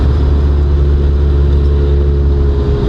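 The engine of the Rusty Levin car idles high at about 2,500 RPM after a cold start, making a loud, steady, close rumbling drone that holds even throughout.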